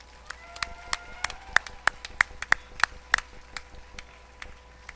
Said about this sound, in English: if we give him one more big round of applause